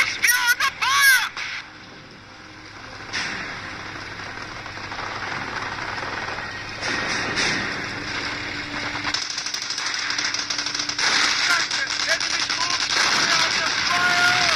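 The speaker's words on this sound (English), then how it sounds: "MG in combat!" In a Company of Heroes battle, machine guns fire in rapid, rattling bursts that come and go over several seconds. Other battle noise and in-game voices are heard as well.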